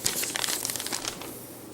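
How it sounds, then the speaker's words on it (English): A paper drawing slides back into a paper envelope with a short burst of crinkling and rustling, close and fairly quiet, fading out after about a second. "So I'm going to put this back in the envelope"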